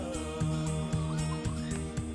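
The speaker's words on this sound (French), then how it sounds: "c'est vraiment le marché aux volailles" Poultry at a French market in L'Aigle: repeated sharp gobbling and clucking calls from fowl, several close bursts in a steady busy rhythm over a continuous low hum of background noise.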